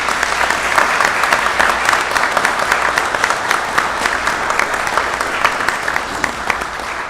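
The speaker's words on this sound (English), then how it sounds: "Ladies and gentlemen, a round of applause for our candidates." Audience applause for candidates at a county commissioner candidate forum, steady sustained clapping from a room full of people, fairly loud and even throughout with no voices on top.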